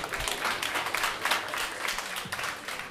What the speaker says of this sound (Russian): чувствуете эти заслуженные, потрясающие и продолжительные овации